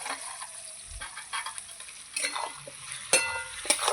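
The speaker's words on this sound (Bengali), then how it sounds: "মুরগির মাংসটা দিয়ে দিলাম" Chicken meat hits a pan of fried onions for a spiced curry, a soft sizzle running throughout with a few louder scrapes and clanks of stirring toward the end, fairly quiet.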